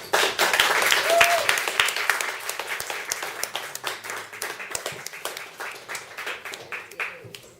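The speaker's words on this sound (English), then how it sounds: "One last round of applause for Rachel McCraw." An audience applauds for Rachel McCraw, a strong burst of many clapping hands that gradually thins into scattered, more separate claps, with a brief cheer or voice near the start.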